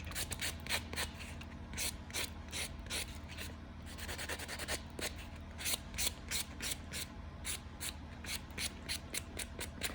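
Acrylic nail being filed with a 100 grit block, a steady run of rapid rasping strokes that repeats in close succession throughout, near and fairly loud with no talking.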